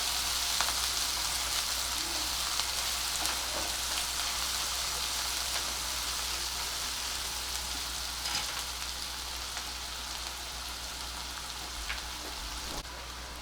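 Onions are sautéing in a pan for a spicy soya chunks curry, with a continuous, even crackling sizzle like light rain, close and steady throughout, with no talking.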